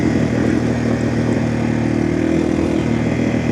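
A Yamaha TW200 dual sport motorcycle engine runs at a steady idle, a loud, close, even rumble with no voices over it.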